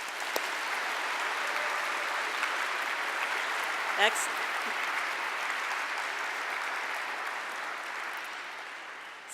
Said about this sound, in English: Please join me in a well-deserved round of applause for everybody who helped make this happen.